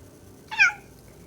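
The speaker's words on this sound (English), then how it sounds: "he meows and jumps away" A single short cat meow rises and falls at close range, clear over quiet room background in a cozy home setting.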